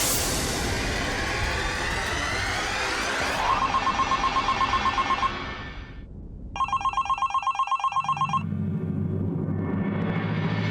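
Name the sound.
telephone ringing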